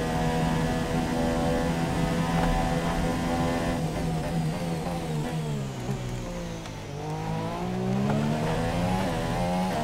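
Open-wheel F1 car in the F1 2017 game at Austria, its high engine note revving loud and steady, then dropping through gear shifts before climbing again as the throttle is fed back in, with no voices over it.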